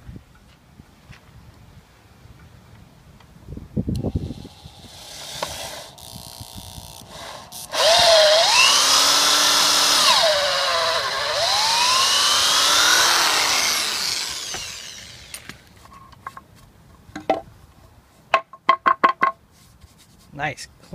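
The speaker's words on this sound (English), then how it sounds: "I'm going to go get my 3/8 auger bit and drill this sucker out." A power drill with a 3/8-inch auger bit spins up and bores through wood for several seconds, its whine rising and falling under load, with some clattering and handling sounds before and after.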